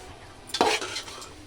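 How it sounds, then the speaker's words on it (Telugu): A spoon stirs and scrapes ingredients frying in ghee in a pan while festival prasadam is prepared, one short, close scraping swish with light sizzling beneath. "ఇలా నెయ్యిలో మంచిగా వేయించుకోవాలండి"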